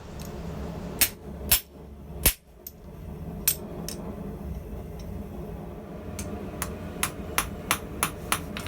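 A forged nail is hammered on a guillotine tool fitted with flat dies at an anvil. Sharp metallic strikes come irregularly at first, then a quicker run of blows follows near the end, with no talk.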